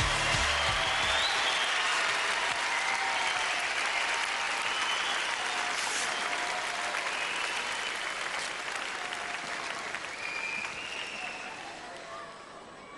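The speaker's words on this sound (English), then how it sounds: "she's going to get a round of applause for being a tremendous contender." A studio audience at a 1993 Gladiators UK semi-final claps long and steadily, with faint voices under the applause as it slowly fades near the end.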